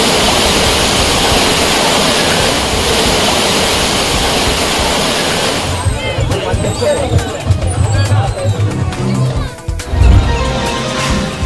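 Thirparappu waterfall in Kanyakumari district roars as a loud, steady rush of falling water, then quietens beneath a babble of tourist crowd voices and splashing.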